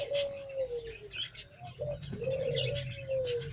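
Teddy pigeons, a high-flying breed kept in Pakistan, coo and call close by in low drawn-out tones, two long coos separated by a short gap, with faint chirps and other bird noise behind.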